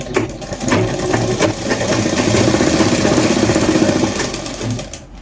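A sewing machine runs steadily, stitching elastic onto a churidar, its fast needle chatter and motor whir loud and close throughout before slowing at the end.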